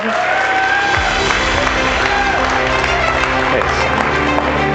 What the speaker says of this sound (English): So please give a thunderous round of applause, and let's welcome Mike Amato.